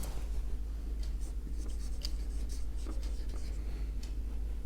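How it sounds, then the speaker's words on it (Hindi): Chalk or marker writing a chemistry formula on a classroom board, a steady run of close scratchy strokes and taps over a low constant hum, with no talking. "मोलर कंडक्टिविटी के लिए एक इक्वेशन या एक फॉर्मूला हम लिखते हैं"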